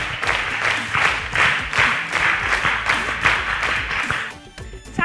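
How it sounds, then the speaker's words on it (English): An audience at a school quiz competition applauds a contestant, with loud rhythmic waves of clapping that hold for several seconds before cutting off abruptly near the end. "A round of applause for him."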